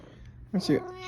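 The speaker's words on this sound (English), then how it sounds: "This one doesn't meow. This one goes meh." A cat lets out a short, bleating "meh"-like meow, brief and close, over a quiet indoor background.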